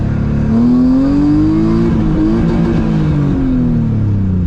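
A Nissan 240SX S14 engine revs loud and close through its throttle body, pitch climbing, holding, then easing back down in a single sustained swell.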